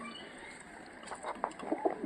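Punjabi Tagiri breed pigeons coo softly in short bursts, faint at first and then a few louder calls, with no one speaking.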